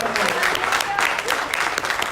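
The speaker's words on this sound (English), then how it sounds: "Give the Lord a hand clap of praise" Church congregation at Grace Fellowship in Mountain View, Arkansas giving a hand clap of praise: dense, lively clapping from a crowd, loud and close, with voices and a shout mixed in during the brief burst.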